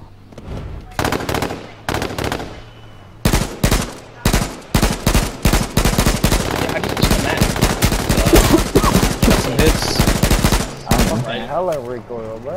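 AK rifle firing in the H1Z1 video game, long loud bursts of rapid automatic gunfire with brief pauses between strings, close and dense throughout.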